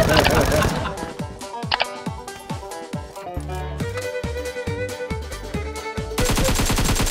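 Rapid bursts of gunfire ring out in a pirate-themed video game, loud cracking volleys in quick succession, some clustered into dense salvos, with brief gaps between shots throughout.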